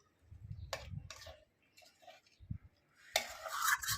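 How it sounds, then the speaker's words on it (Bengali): Spoon clinking and scraping in a pot as biriyani is stirred while cooking in the sun's heat; a few separate, faint metallic taps with gaps between them, then a louder scraping rush at the end. "নাড়িয়ে চাড়িয়ে দিয়ে যাই"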